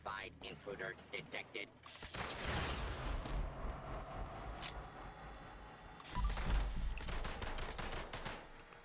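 Rapid gunfire in the video game Fallout 76 from a fight against robots, dense bursts of automatic shots close and loud, with someone talking over the shooting.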